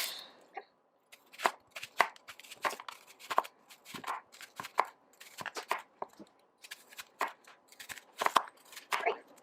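Knife chopping red, white and yellow onions and a bunch of shallots on a cutting board, a steady run of close, crisp cuts with brief pauses between bursts, no talking.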